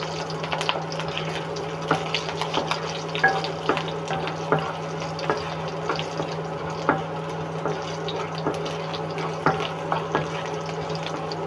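Green chilli and ginger go into a hot pan for an okra curry, making a steady, moderate sizzle with soft, regular clicks of stirring throughout and no talking.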